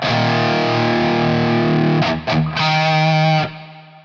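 Heavily distorted electric guitar through an IK Multimedia Brownsound 78 amp simulator holds a sustained, buzzy chord, briefly choked twice, then rings again before cutting off abruptly, leaving a faint hum.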